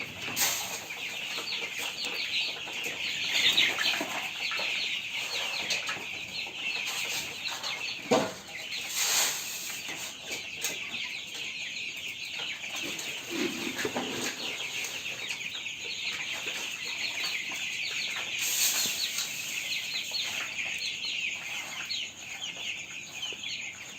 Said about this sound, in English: Can you see the birds enjoying the food?